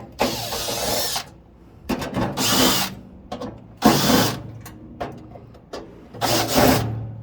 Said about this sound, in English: we're gonna take a 1/4 inch socket and we're gonna remove the screws from the burn pot here